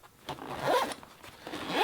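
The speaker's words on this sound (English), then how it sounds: "Double zippers" A zipper on the back pocket of a 3V Gear Velox II bushcraft backpack with double zippers is pulled open or shut in two or three short rasping runs, close and fairly quiet, with no talk.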